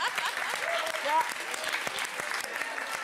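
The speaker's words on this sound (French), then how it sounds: "il y a mon grutier préféré qui applaudit derrière la caméra" A crane operator in a television studio claps behind the camera, blending with a studio audience's dense applause, while voices talk over the clapping.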